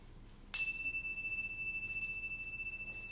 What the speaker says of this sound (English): let us center our hearts and minds with the ringing of the chimes